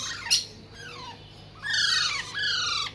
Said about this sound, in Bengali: রয়েছে এখানে ইন্ডিয়ান রিং নেক পেরোডের বেবি